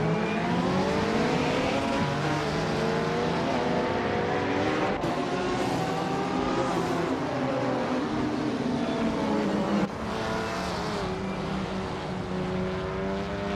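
Several race cars in a racing video game roar three wide into the first corner, engine tones rising and shifting in overlapping layers, loud and continuous with brief gear-change dips and no talk.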